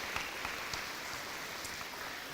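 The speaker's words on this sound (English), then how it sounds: "Give these people a huge round of applause." An audience at an elementary school dedication and ribbon cutting gives school board members a steady, dense round of applause. The clapping is soft and hissing, with a few sharper individual claps, and there is no talk.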